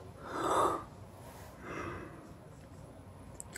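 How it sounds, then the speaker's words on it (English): A person yawns with a long, breathy exhale, then a second softer drawn-out breath follows, close and fairly quiet. "Sorry for the yawn."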